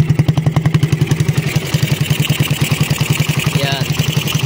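A Raider 150 motorcycle engine, just repaired at the head, idles with a steady, fast, loud putter and a clattering mechanical edge, heard up close and continuously.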